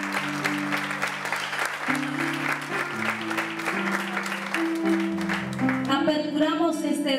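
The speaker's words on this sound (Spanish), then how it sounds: "Un aplauso." Wedding guests applaud steadily throughout, the clapping mixed with sustained music tones and a voice, with the music shifting brighter near the end.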